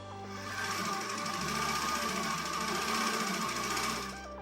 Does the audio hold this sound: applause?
no